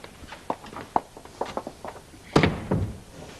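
A door in a 1980s British soap-opera interior is pushed shut with a solid thunk, after a run of light taps and footsteps nearby; no speech.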